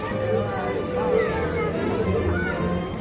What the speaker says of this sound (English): Big crowd today.